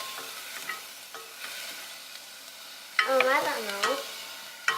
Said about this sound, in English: I'm putting the ginger and the onion in the pot.